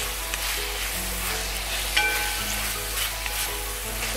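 Mutton pieces, potatoes and onions frying in a pan, a steady dense sizzle with occasional stirring scrapes, close and continuous without speech.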